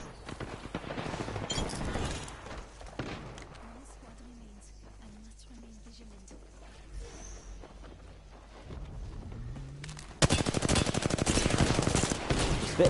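A Spitfire light machine gun fires in a video game in two loud, rapid sustained bursts, separated by a quieter stretch of ambient game sound.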